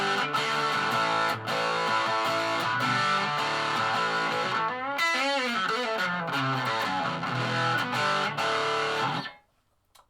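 Electric guitar played through a RAT distortion pedal into a valve amp, loud saturated chords ringing steadily, a bending slide around the middle, then an abrupt cut to silence near the end.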